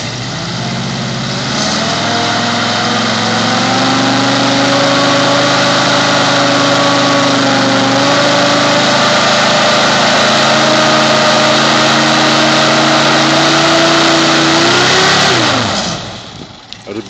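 Hovercraft engine held at about 4,000 RPM on a first hover, a loud, steady close-up drone with slight pitch shifts, running continuously before winding down and cutting off near the end.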